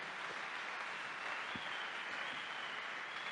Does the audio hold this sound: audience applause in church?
yes